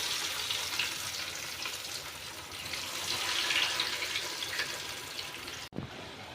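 Crispy potato nuggets fry in oil on a low flame, making a steady, bright sizzle that keeps up throughout, with a brief clatter near the end.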